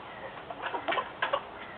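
Three-and-a-half-month-old Silver Lace Wyandotte and Buff Orpington chickens cluck softly nearby in a few short, uneven bursts over a quiet background.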